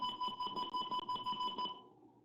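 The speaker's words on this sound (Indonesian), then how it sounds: "lampu indikatornya menyala, dan juga sensornya akan berbunyi" Gas sensor alarm buzzer in a Proteus 8 circuit simulation, beeping in a rapid steady pulse of about a dozen short tones for nearly two seconds, loud and alone, then stopping.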